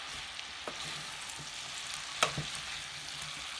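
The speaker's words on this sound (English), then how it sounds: "And we stir it up a little bit." Apple pie filling with lemon, cinnamon and nutmeg stirred in a small pan, a steady sizzling hiss throughout with a few soft scraping knocks of the spoon, no voices.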